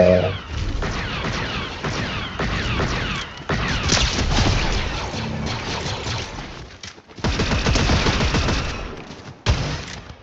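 Rapid video-game gunfire in Fortnite, dense bursts of automatic shots and booms rattling loudly almost nonstop, with a brief gap before the firing resumes.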